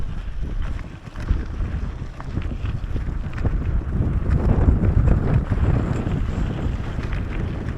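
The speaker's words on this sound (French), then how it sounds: "On est en pleine tempête de sable là." Steady roaring sandstorm wind in the Bolivian salt flats buffets the microphone with heavy low rumble and gusts, a constant blowing storm with no voices heard.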